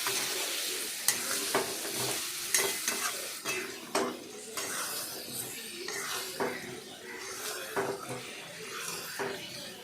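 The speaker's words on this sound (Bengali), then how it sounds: "জল দিয়ে ভালোভাবে কষাবেন" Catla fish head masala with water is stirred and sautéed in a pan for muri ghonto: rhythmic scraping strokes over a continuous sizzle, close and fairly loud.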